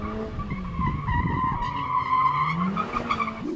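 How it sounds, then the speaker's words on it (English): A Mercedes-AMG A45 S with a front-axle limited-slip differential drifts, its tyres squealing and skidding in a long wavering screech over the engine note, close and steady. "here's me drifting a Mercedes AMG A45s"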